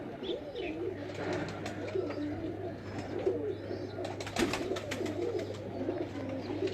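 Pet breeder pigeons coo in soft, repeated rolling phrases against a steady low hum, with occasional wing flutters and faint chirps throughout.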